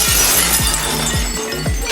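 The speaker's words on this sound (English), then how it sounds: "The sharp crash of breaking glass snapped everyone's attention to me." A champagne glass knocked over in a hall crashes and shatters, its sharp breaking impacts repeating in quick bursts, loud and close, with no voices over it.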